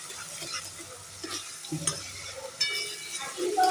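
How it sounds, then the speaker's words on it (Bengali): Spice paste of ginger and cumin is sautéed in a pan for a potato and paneer curry, with a soft, close sizzle and scattered spoon stirs and clinks. "মশলাটা কষে দিচ্ছি ভালোভাবে"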